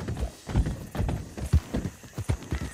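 A silver dapple pinto Missouri Fox Trotter in Red Dead Redemption 2 moves with a clear clip-clop of hooves, an uneven run of close, moderately loud hoof strikes on hard ground.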